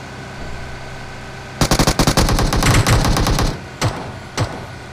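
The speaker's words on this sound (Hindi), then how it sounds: "यहाँ पर ये एक बॉट के चक्कर में अपनी पूरी गोलियां बर्बाद कर देता है" Machine gun fire in a battle royale video game: a sustained rapid burst of automatic shots, loud and close, followed by two more isolated single shots after a pause.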